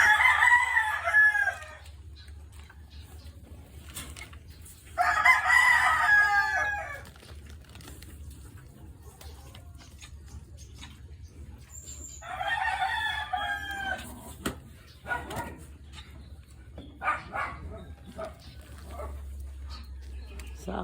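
Roosters crow loudly in repeated long calls, separated by pauses, with softer clucking and faint voices in the background on a farm.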